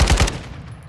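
RPK light machine gun firing in Modern Warfare II, a rapid burst of about four loud, close shots that quickly trails off into a fading echo.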